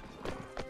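Horse hooves clop in the Mount and Blade Warband video game, two quick bursts of hoofbeats in under a second, fairly faint.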